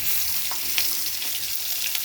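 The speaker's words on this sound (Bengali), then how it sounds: "এই যে পাঙ্গাস মাছ এখন ভাজবো। এই দেখেন কড়াইতে দিচ্ছি" Pangas fish fries in a wok, a close, loud, bright hissing sizzle that holds steady for a couple of seconds, with a few small pops and no voices.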